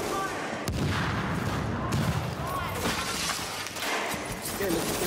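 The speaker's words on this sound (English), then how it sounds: "Open fire!" Dense gunfire in the video game Tomato Team: Rogue Chronicles, rapid overlapping shots and crashes forming a continuous loud barrage with voices mixed underneath.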